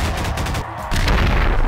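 Futuristic gun firing in Garry's Mod, a loud, dense burst of rapid synthetic shots with a brief dip midway before the blasts resume at full strength.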